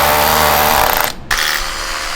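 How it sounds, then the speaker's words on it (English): A Bosch rotary hammer bores into concrete block, a loud continuous grinding drone that cuts out briefly and then resumes at a slightly lower level. "Now Harley has it set up here in our Bosch rotary hammer."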